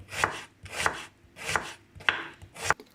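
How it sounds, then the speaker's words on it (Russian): Five evenly spaced knife chops on a cutting board, a crisp rhythmic chopping of three medium onions into small dice with short pauses between strokes, close and fairly loud. "я беру 3 средних луковицы и режу мелким кубиком"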